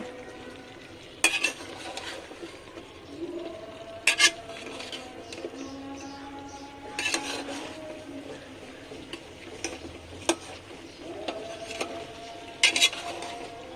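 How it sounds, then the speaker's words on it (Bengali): Curry is stirred in a cooking pot over a gentle, continuous sizzle, with scraping strokes and intermittent sharp clinks of the spoon against the pot. "এবার ভালো করে নেড়ে দিব।"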